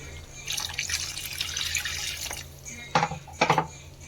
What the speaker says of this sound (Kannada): ಈಗ ಎಷ್ಟು ಬೇಕು ಅಷ್ಟು ನೀರು ಹಾಕೋಣ